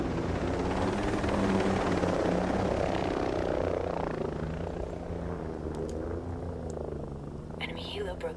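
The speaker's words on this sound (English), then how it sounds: "Enemy helo broke station." An enemy helicopter in the video game Ghost Recon Breakpoint drones with a steady, loud rotor thrum throughout, slowly shifting in pitch as it moves.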